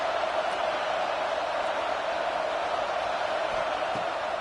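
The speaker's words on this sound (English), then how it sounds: "how nice is it to have the home crowd going absolutely bananas?" A home college football crowd in a packed stadium, Stanford at Clemson, roars in a steady, dense wash of cheering that holds at an even level throughout, with no break or separate voices standing out.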